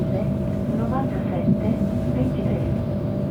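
Cabin of a moving Trenitalia Frecciarossa high-speed train between Milan and Venice: a steady loud low rumble of the train in motion, with a spoken announcement faintly audible over it.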